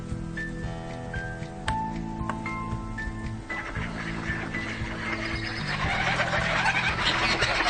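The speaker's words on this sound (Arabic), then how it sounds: "صوت حصان." A horse sound effect: whinnying neighs and clip-clopping hoofbeats sound over a layered background that grows busier and louder toward the end.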